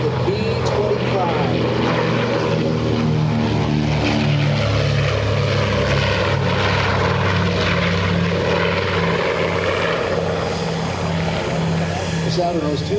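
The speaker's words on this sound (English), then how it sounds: "You hear the historic, the growl of those round engines of the B-25." A North American B-25 Mitchell bomber at an air show, its two Wright R-2600 Twin Cyclone 14-cylinder two-row air-cooled radial piston engines growling in a loud, continuous deep drone with a throbbing low tone that holds steady throughout.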